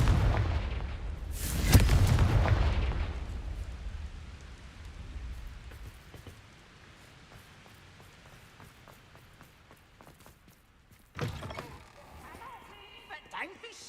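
An explosive fire spell in the Hogwarts Legacy video game bursts with a loud blast followed by a rumbling, crackling tail that fades over several seconds, then a second sharper impact later.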